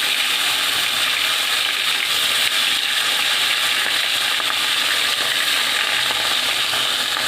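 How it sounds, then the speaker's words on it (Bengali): Katla fish pieces fry in hot oil with a loud, dense, unbroken sizzle close by that holds steady throughout, with no voices. "তেলটাও গরম হয়ে গেছে আমি এটাকে মাছগুলো এখন ছেড়ে দেবো ছেড়ে দিয়ে বেশ একটু লাল লাল করে ভেজে তুলে নেবো"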